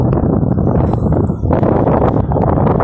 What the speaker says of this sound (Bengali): এদিকে সমুদ্রের ঢেউ, প্রচণ্ড বাতাস বইছে।